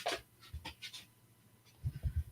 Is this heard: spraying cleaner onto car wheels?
no